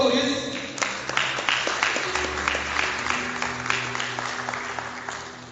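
A church congregation claps together in a dense run of individual hand claps at moderate volume, with a low sustained musical tone beneath and a voice at the start.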